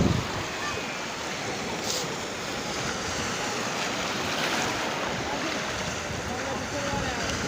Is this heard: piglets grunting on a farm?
no